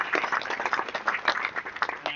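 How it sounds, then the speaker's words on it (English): Audience applause and clapping at a live-streamed event honoring a tribute, a dense steady wash of many hands continuing through the short stretch at moderate loudness. "Let's give her a round of applause."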